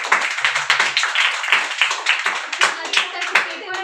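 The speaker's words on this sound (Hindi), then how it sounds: "ताली बजाइए इनके लिए" Small group clapping for a student who earned an English distinction at a birthday gathering, brisk uneven handclaps close by with voices mixed in.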